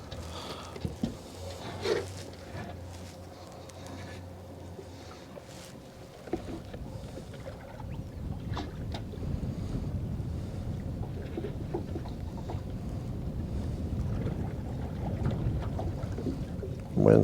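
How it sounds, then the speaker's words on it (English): Wind gusts and buffets a microphone on a fishing boat, a low broadband roar that swells louder in the second half, with scattered knocks and rustles. "Wind's picked up."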